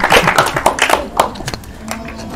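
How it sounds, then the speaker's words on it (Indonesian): Children clap their hands at a gathering in a mosque, with a scattered burst of quick claps early on that soon gives way to quieter, irregular taps and background murmur. "Tepuk tangan dong"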